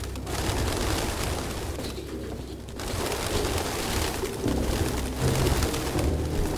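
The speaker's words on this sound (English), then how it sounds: "No human could live with all these fucking pigeons." Pigeons coo in the video game Detroit: Become Human, a steady soft murmur of low birdsong over a dense ambient bed, continuing through the whole stretch with no talk.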